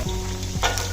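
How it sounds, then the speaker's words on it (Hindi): Finely chopped garlic cloves hit hot oil for restaurant-style noodles, a loud, close, steady sizzle over about a second with a faint utensil clink, no speech. "इसमें हम लहसुन डालेंगे, जिसे मैंने बारीक चॉप कर लिया है।"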